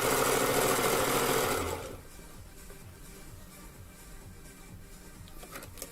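Domestic sewing machine stitching a zigzag: a dense, loud motor whir for nearly two seconds, then a quieter, steady rhythmic mechanical chugging that continues alone to the end.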